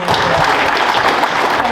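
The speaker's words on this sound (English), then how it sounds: "Let's give everyone a round of applause again." A banquet crowd applauds steadily, a dense, loud wash of clapping that fills the whole moment without pause.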